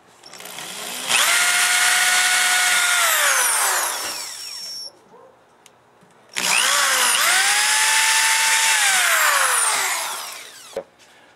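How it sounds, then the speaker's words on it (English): A power drill bores pilot holes in a Harley-Davidson Tour-Pak in two loud, close bursts, each whining up to speed, holding steady for a few seconds, then spinning down, with a short pause between. "now that we got our pilot holes drilled"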